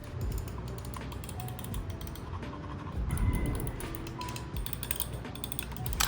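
Soft, rapid mechanical clicks from a small Epomaker Click gaming mouse, repeated in quick bursts, faint and close with a light rattle.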